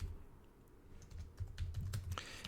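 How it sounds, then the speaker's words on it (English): Keys clack on a computer keyboard as a git clone command is entered during an Arch Linux install, a quiet run of irregular taps that grows busier toward the end, with no talking. "to download it, I'm going to type in git clone"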